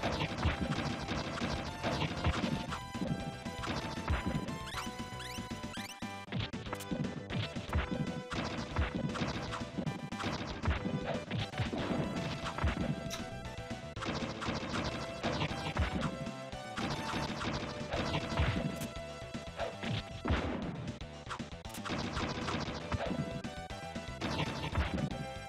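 Continuous string of smashing and whacking hits from a car being wrecked in the Mighty Morphin Power Rangers SNES game, loud and dense throughout over constant retro game music and effects.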